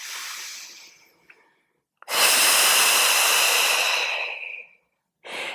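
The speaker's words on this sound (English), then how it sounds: "it's a nice big deep breath in, and then it's a slightly forced, slightly noisy exhale" One deep breath drawn in, then a long, slightly forced, noisy exhale during a pregnancy Pilates core workout, close and breathy, followed by silence and the start of another breath.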